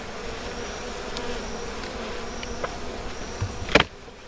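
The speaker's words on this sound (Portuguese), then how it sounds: "Essas aqui são abelhas já desafricanizadas, né? Não são mais africanas, são italianas, tá?" Italian honey bees from an opened hive buzz in a faint, steady drone with brief louder passes near the end, outdoors with no speech.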